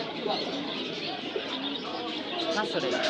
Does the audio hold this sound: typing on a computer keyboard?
no